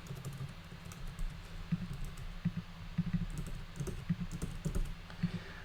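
Steady typing on a computer keyboard during a coding session, a run of soft, close key clicks at an uneven rhythm with no talking.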